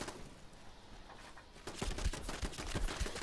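An automated house turret in a video game fires rapid bursts of gunfire, quiet at first and then a dense, loud run of sharp shots from about halfway on.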